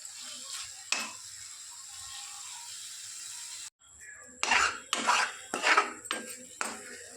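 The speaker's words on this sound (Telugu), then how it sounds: "చింతపండు బాగా గుజ్జుగా కలుపుకుంటా ఉడికించుకోవాలి." Tamarind is stirred and cooked into a thick pulp in a pot for gongura pickle, with a soft simmer followed by a series of close, sharp spoon scrapes and knocks against the metal pot.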